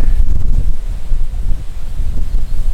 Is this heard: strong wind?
yes